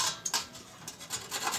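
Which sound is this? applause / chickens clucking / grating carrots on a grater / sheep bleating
grating carrots on a grater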